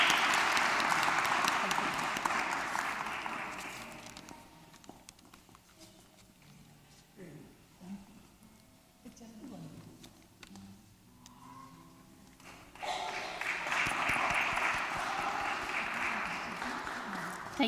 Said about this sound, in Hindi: क्यों ना हम तालियां बजाकर इनका वेलकम करें।